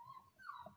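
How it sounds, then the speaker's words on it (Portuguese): A small dog whimpers and whines at a closed door, wanting to come in, with a few short high-pitched cries, faint and close. "A cachorrinha querendo entrar. É que ela faz barulho aqui"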